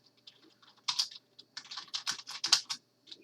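Rapid bursts of keystrokes on a computer keyboard as a math answer is typed in, close and crisp, with uneven rhythm and short pauses and no voices.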